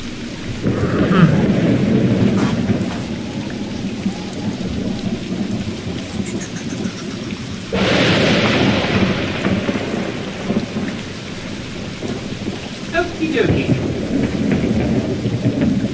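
Heavy rain pours steadily while thunder rumbles and cracks, swelling into loud rolling bursts several times over sixteen seconds as a storm ambience; a voice speaks briefly near the start.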